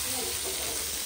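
Masala dosa cooking on a hot pan gives a steady, close sizzle with a soft frying hiss that holds evenly through the short moment, with no talk over it.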